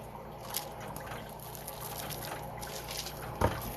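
Water trickles and pours into a pot for oatmeal, a soft steady stream heard close and quiet, ending with a small clunk.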